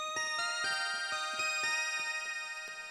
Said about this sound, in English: I'm going to be playing the lead line, and that's going to sound like this.